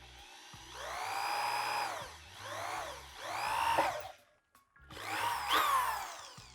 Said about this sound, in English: I'm gonna go ahead and finish drilling these 2 holes